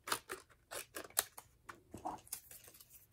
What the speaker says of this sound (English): And I'll just cut a little bit off.